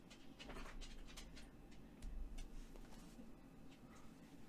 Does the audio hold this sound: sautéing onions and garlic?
no